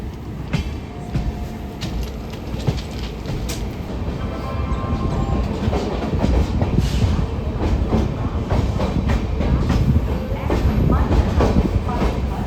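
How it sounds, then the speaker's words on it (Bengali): The Up Gour Express rolls into Malda station behind a P7 locomotive with LHB coaches, a dense, steady rumble of wheels and rail clatter building slightly louder, with a faint voice underneath. "প্ল্যাটফর্ম নম্বর 5-এ কিন্তু আমাদের প্রবেশ করালো আপ গৌড় এক্সপ্রেসকে।"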